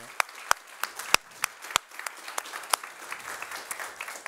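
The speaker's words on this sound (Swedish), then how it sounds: "En applåd för Alexander, Jenny och Magnus." Audience applause after a talk, scattered individual claps with several sharp, distinct hand claps standing out, moderately near and thinning slightly toward the end.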